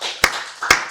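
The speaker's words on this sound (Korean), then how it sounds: "박수를 하나님께 영광 드리겠습니다." A worship congregation claps in church, two sharp, loud claps about half a second apart over a soft murmur of singing.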